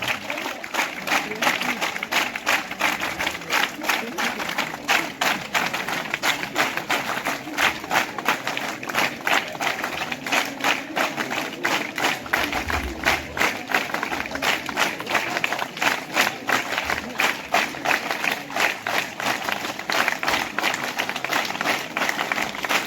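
A crowd claps steadily and rhythmically throughout a school Independence Day celebration, a dense, even patter of many hands that continues without pause.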